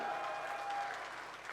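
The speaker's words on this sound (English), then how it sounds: "my amazing Euler Motors team who is cheering for me from the back" An audience at the Euler Motors Turbo EV 1000 launch in India claps, a short burst of dense, fairly faint applause that tapers off within a second or two.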